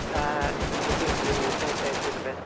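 Loud, rapid machine-gun fire in a police roleplay video game, a fast continuous burst of closely spaced shots lasting a couple of seconds.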